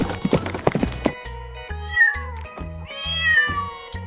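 A cat gives two drawn-out meows after a burst of brief knocks, heard over a steady low musical tone.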